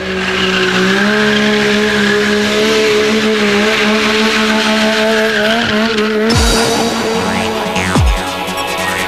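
Loud motorcycle engine revving continuously, with sharp tire skids and squeals near the end as the bike slides, at a motorcycle stunt festival in Zolder, Belgium.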